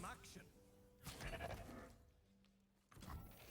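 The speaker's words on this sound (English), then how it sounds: "Hey, look, it's a Mountain Goat." A Mountain Goat card in the Legends of Runeterra video game lets out a short synthetic bleat amid game sound effects, while someone talks over the top.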